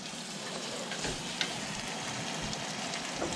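Beans sizzle and crackle steadily in a hot pan while being stirred, with a continuous dense frying hiss and occasional soft scrapes and clicks.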